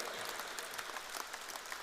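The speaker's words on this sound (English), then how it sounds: "And keep the applause going." Audience applause for Mr. Roshan Fernando at a felicitation ceremony for St. Peter's College rugby sponsors, a steady, dense wash of many hands clapping throughout, fairly soft and distant.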